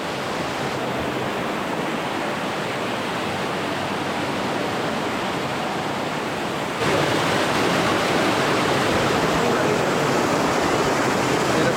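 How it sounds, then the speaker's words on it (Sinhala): Loud, constant roar of rushing water from Andahalena Ella waterfall in Sri Lanka, heard from its top, close by and filling the whole clip, growing slightly louder partway through. "අපි ඇල්ල උඩ ඉන්නේ."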